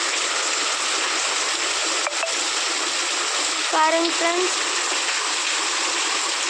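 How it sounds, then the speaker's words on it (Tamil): Rainwater gushing steadily from holes in a pipe, a loud continuous rushing stream close by, with someone speaking briefly over it. "அந்த மேலே இந்த பைப்பு போட்டு விட்டுருக்கிறதுல வந்து ஹோல்ஸ் ஆகி தண்ணி வருதுங்க"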